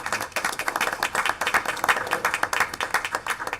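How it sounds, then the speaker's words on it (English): An audience applauds students at a school board meeting, a steady patter of many hands clapping at moderate volume for several seconds. "So let's give our students a big round of applause."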